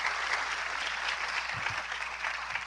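Audience at a biodiversity summit plenary session applauding: a dense, even roar of clapping that holds steady from start to finish, with no talk over it.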